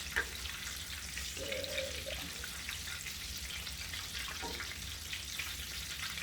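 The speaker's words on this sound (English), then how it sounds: "put some of that nice hot oil on top of those" Hot oil sizzles steadily over stuffed meatballs frying in a pan, a continuous bubbling hiss, fairly close and even throughout, with no voices.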